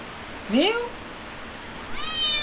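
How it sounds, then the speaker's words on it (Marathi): A cat meows twice up close, a rising cry followed by a longer drawn-out meow after a short pause. "रियाज बरोबर जाम खेळते मांजर"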